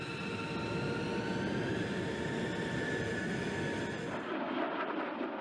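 B-2 Spirit stealth bomber's jet engines roaring in a steady, loud whine and rumble, cutting off abruptly to a quieter hiss near the end.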